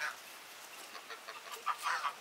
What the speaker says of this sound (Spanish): ¿Cómo están mis pájaros?